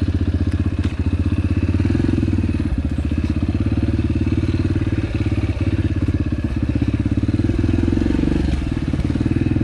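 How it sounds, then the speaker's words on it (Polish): Yamaha TTR 125 dirt bike fitted with an FMF PowerCore 4 exhaust idles close up, a rapid steady popping thump with occasional clatter and crackle, running continuously without voices. "Tak samo ten wydech jest super zarąbisty, wam powiem, ten FMF PowerCore 4."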